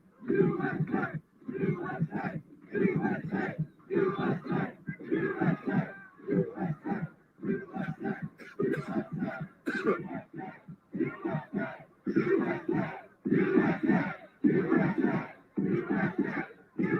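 Dense crowd of Trump supporters at the US Capitol on January 6, shouting and chanting in overlapping bursts close around, with a loud, continuous roar of many voices and no single clear speaker.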